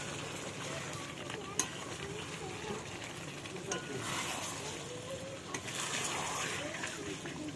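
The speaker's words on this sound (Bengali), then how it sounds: "আর এখানে কষানো হচ্ছে মটনটা।" Mutton being stir-fried in a home kitchen pan, with a steady, close sizzle and occasional stirring scrapes that continue throughout.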